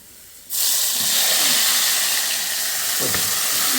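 Mustard seeds hit hot oil for tempering in a home kitchen, and a loud, steady hiss bursts in abruptly after a quiet half second. It holds close and constant, with a faint clink partway through.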